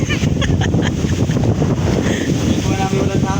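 Gusty wind buffets loudly across the whole moment during mango picking outdoors, roaring steadily with brief voices breaking through.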